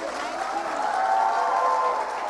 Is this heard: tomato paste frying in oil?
no